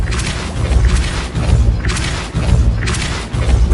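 Repeated spell blasts in the Hogwarts Legacy video game, a dense series of booming, thumping impacts and whooshes about every half second, loud and continuous with no talk.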